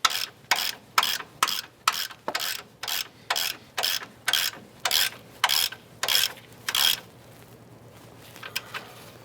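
Ratchet wrench snugging a rear upper control arm bolt on a 2003-2012 rear-wheel-drive Chevy Colorado, with about fifteen evenly spaced clicking ratchet strokes close up, then a few faint clicks as the work stops.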